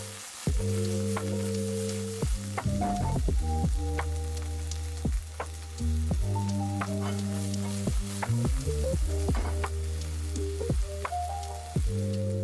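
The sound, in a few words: stirring seasoned sauce sizzling in pan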